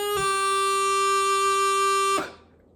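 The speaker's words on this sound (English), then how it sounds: "we're actually going to start with the G grace note to F." A bagpipe practice chanter plays a G grace note into a sustained F. The reedy, buzzy tone holds steady for about two seconds, then stops cleanly.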